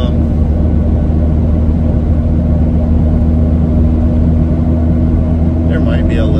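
Steady low rumble of road and wind noise heard from inside a moving second-generation Toyota Tacoma fitted with a TJM snorkel, constant and moderately loud, with faint talk near the end.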